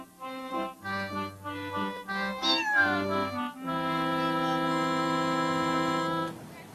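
A cat meows several times in short, tonal calls, then lets out one long drawn-out meow, close and clear with no talking.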